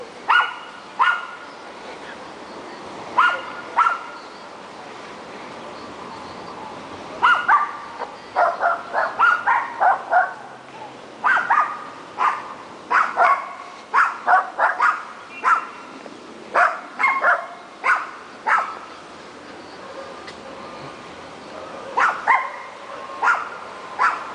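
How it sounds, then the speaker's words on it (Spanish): Small dogs bark repeatedly in an outdoor park, sharp yips and barks coming in irregular bursts over a steady background hum, fairly close and prominent. "Unos perritos."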